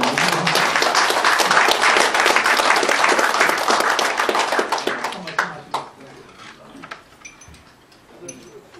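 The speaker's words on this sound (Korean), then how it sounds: "여러분도 동의하신다면 박수로 해주시면" A lecture audience in Korea breaks into dense, enthusiastic clapping that holds strong for about five seconds, then thins out into scattered claps and quieter room sounds.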